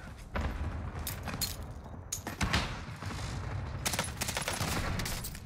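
Rapid bursts of gunfire in the video game Warzone on Rebirth Island, a dense fusillade of close and distant shots with heavy thumps, sustained throughout without any talking.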